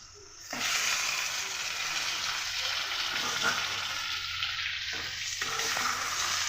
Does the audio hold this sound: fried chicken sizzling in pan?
yes